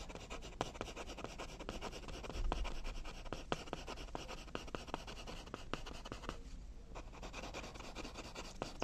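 Colored pencil hatching on paper makes a quiet, close scratching, with quick repeated strokes in a steady rhythm and a brief pause near the end.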